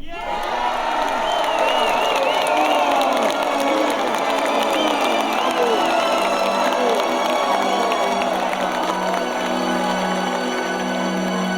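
A large crowd gathered around the healer Bruno Gröning cheers and shouts continuously, a dense roar of many voices with whoops and scattered children's cries, loud and sustained throughout.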